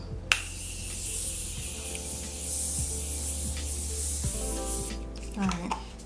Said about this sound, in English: I do like to use this continuous setting spray